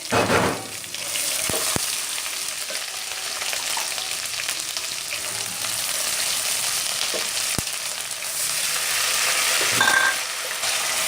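Spices sizzle steadily in a hot pan for aloo tahari, close up, with a continuous crackling hiss and a few stirring clicks.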